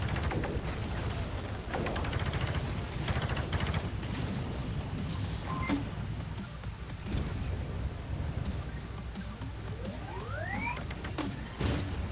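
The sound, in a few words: gunfire from droids and player in video game Space Pirate Trainer DX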